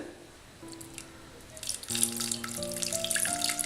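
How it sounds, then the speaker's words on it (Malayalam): Water is poured into a pressure cooker holding potatoes, a quiet, ringing trickle that swells into a fuller splashing pour over a few seconds, with no one speaking. "ഇതിൽ കുറച്ച് വെള്ളം ഒഴിച്ചെടുക്കാം, ഒരുപാട് വെള്ളം ഒഴിക്കരുത്,"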